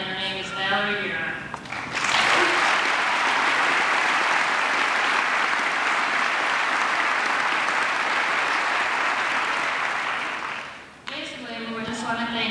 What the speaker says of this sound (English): You could all give her a hand of applause.